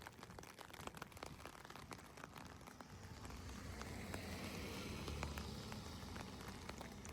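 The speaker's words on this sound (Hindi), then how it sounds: "मतलब इतनी बारिश कि क्या ही मैं बताऊं आपको।" Heavy rain falls steadily outdoors in a snowy Canadian setting, a dense, even wash of patter and drips that thickens and grows louder partway through, with no voices heard.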